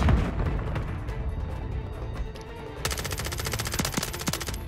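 Sniper gunfire during a Search and Destroy video game match near a boathouse, heard as a steady stream of gunshot cracks that turns into sharper, denser repeated bursts partway through.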